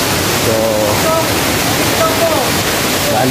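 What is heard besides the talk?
waterfall near Maapon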